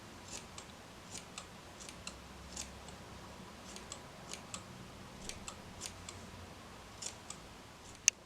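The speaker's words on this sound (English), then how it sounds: "take the scissors and just trim them" Scissors snip stray fuzzy fibres from a needle-felted wool chipmunk, giving a steady series of quiet, crisp clicks about twice a second, close and alone, with one sharper snip at the end.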